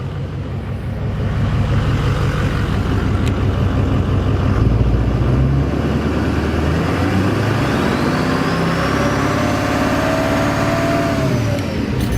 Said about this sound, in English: we've got a little bit of a belt squeal to it